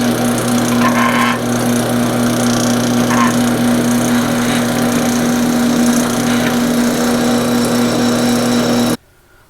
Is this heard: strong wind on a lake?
no